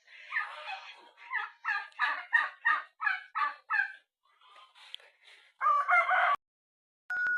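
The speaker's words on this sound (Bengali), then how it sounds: "এখানে খালি দেখছি কটা দেশি মুরগি রয়েছে" Native country chickens at a rural resort, a rooster crowing loudly in a long drawn-out call with clucking and other fowl calls around it, then a brief squawk near the end.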